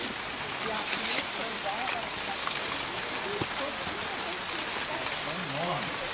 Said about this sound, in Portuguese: tem chuva.